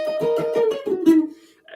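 An electric guitar in a jazz guitar lesson picks a quick line of rhythmic plucked notes that settles onto a held note and fades, followed by a faint short tail.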